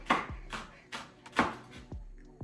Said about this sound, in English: I've washed 3 spring onions and I'm just gonna slice these